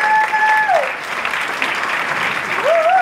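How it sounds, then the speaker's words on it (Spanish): An audience at a children's and youth symphony orchestra concert bursts into dense, sustained applause, with whistles gliding over the crowd noise at the start and end. "le pido un aplauso para el maestro Lidia"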